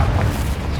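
A Confringo explosion spell cast in Hogwarts Legacy, heard as a deep, rumbling boom that holds steady through the whole moment, heavy in the low end and fairly loud.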